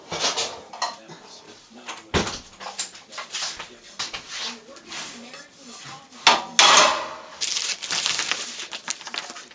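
A metal pizza pan taken out in a home kitchen, with clattering and scraping against other pans, sharp metallic knocks and rustling, plus a dog whimpering nearby.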